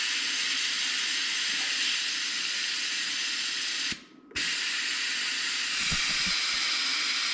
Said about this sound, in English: the force of the steam coming out is less and less.